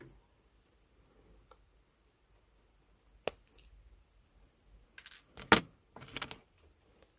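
Jewellery wire for wire-wrapped starburst earrings trimmed with cutters, a sharp single snip followed by light metallic clicks and jangles of the wire, quiet and close.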